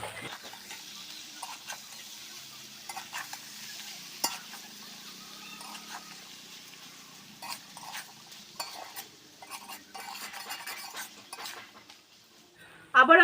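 Cabbage being stirred in a covered pan for cabbage paturi, with a utensil scraping and clinking against the metal under a soft, steady sizzle, and a sharper clatter near the end as the lid is handled.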